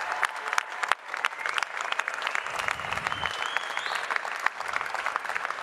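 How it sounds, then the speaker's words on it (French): Sustained crowd applause for the competing teams fills the hall at the Coupe du Monde de la Pâtisserie Europe 2024 prize ceremony, loud and continuous with many hands clapping together. "On applaudit les équipes."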